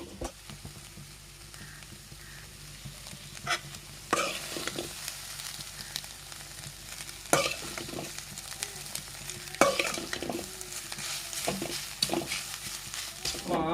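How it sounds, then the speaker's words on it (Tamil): Ginger garlic paste sautés for fried rice in an iron pan, a low continuous sizzle under repeated sharp scrapes and clanks of a spatula against the metal, evenly spaced through the stretch with no talking. "இப்போ இந்த அளவுக்கு நல்லா வதங்கினதுக்கப்புறம்"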